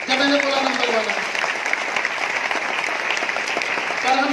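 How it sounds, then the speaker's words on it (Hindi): Sustained audience applause fills a business seminar hall in India, a dense steady clatter of many hands that stays loud and even throughout with faint crowd voices mixed in. "तालियां बड़ी देर में बजाई"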